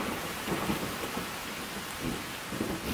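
Heavy tropical rain pours steadily in the Madagascar rainforest during the dry season, a dense close hiss with low rumbling thunder rolling underneath throughout, and no voices.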